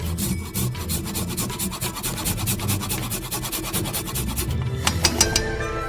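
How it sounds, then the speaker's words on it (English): Fresh ginger is grated straight into a frying pan that holds sesame oil, making a close, continuous rasping scrape built from quick, steady strokes, with a few sharper scratches near the end. "Let's grate some ginger directly into the pan."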